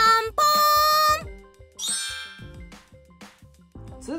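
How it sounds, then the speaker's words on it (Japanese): Four-note announcement chime jingle rings out clearly at the start, bright bell-like tones followed by fainter scattered dings and tinkles, with no speech over it. "ピンポンパンポン。"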